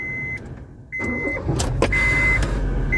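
A car engine idling steadily with the air conditioning running in an overheated car, a low continuous hum with a few brief tones and clicks on top, no talking.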